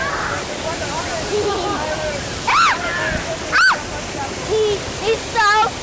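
Waterfall water rushes in a steady, broadband roar throughout, with brief high chirping calls and voice-like sounds rising over it now and then.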